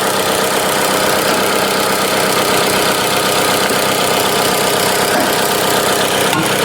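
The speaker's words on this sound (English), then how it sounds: "So I'm gonna turn off the engine." A Chrysler 200 with overheating and coolant leak problems idles steadily up close, a constant, loud engine hum with a faint ticking texture and no voices.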